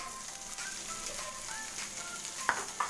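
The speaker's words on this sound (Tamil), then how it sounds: "சோம்பு நல்லா பொரிஞ்ச உடனே நம்ம வெங்காயத்தை ஆட் பண்ணிக்கலாம்" Onions sizzling with fennel seeds in hot oil in a pan, a steady bright frying hiss running throughout with a few brief clinks near the end, no voices.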